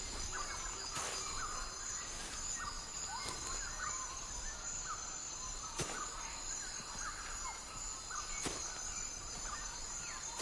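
Birds call through a New Guinea forest, with scattered chirps and whistles over a steady insect drone and occasional sharp clicks, a dense, continuous natural chorus with no voices.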